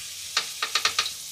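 Food fries in a home kitchen pan, with a steady hiss broken by about five quick, loud sizzling bursts close to the microphone. No one speaks.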